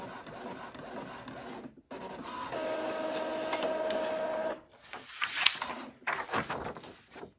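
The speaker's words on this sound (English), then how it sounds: "So I'm gonna do a printhead nozzle check." An Epson printer loaded with Hiipoo sublimation ink runs a printhead nozzle check, a close mechanical whir with a sustained tone, brief pauses and clicks as the head shuttles and paper feeds, no voices.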